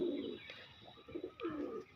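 Pigeons coo close by, a few soft throaty rolling calls repeating in short bursts with brief gaps, no voices.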